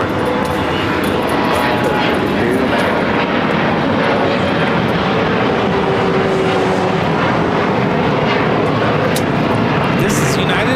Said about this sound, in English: This is United Express 5299 taking off to Fresno on the E175.